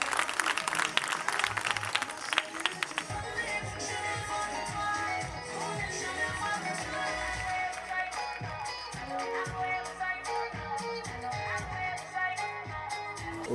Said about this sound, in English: Et je vous demande une fois encore d'applaudir pour Winnipeg.